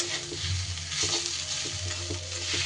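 A thankuni (pennywort) leaf mixture with fried sesame and poppy seeds is stirred in a pan, giving steady rhythmic scraping strokes over a continuous soft sizzle, close and moderately loud.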